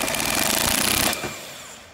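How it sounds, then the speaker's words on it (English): An impact wrench with a 19 mm socket hammers loudly and rapidly close up for about a second, tightening a flywheel puller against the crankshaft of a Honda GX390 engine, then cuts off abruptly. "I'm gonna use the impact wrench with the 19 millimeter on this particular puller."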